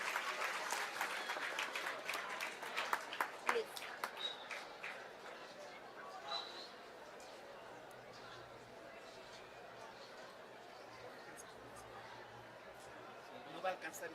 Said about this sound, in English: Let's welcome them with a warm round of applause.